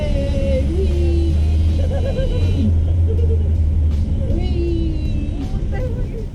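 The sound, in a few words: Renault Twizy electric car driving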